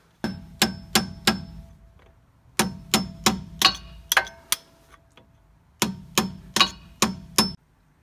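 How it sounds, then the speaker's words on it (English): A hammer taps a punch against the brake caliper bolts of a 1996 Dodge Ram 2500, ringing metallic strikes in quick bursts of three to five with short pauses between, close and clear with no talking. "So I just use a punch here and I'm gonna tap the bolt"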